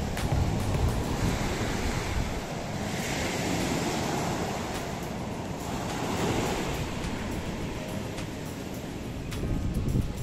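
Ocean waves wash steadily onto a long hotel beach at the Kempinski Seychelles resort, a continuous loud surf roar with some wind rumble across the whole stretch and no voices.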